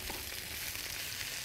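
Chard fries in olive oil in a hot wok, a dense steady sizzling hiss heard up close and alone for a moment.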